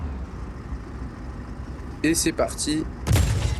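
Machine gun and cannon fire at a train in the Just Cause 4 video game, with rapid bursts that start partway through and a heavier blast near the end, under a voice talking.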